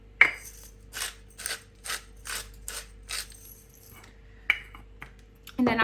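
Salt and pepper ground onto a topside beef joint, a series of about seven evenly spaced, close gritty ratcheting bursts from a hand grinder, then a pause and a few scattered clicks and handling noises.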